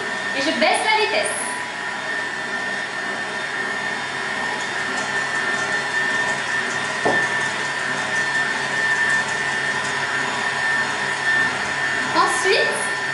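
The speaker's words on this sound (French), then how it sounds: "je vais monter les blancs en neige et il faut qu'ils soient très fermes" Electric mixer whipping egg whites stiff for an Easter cake, a steady loud motor whine with a constant high tone running throughout, with brief clatter at the start and end.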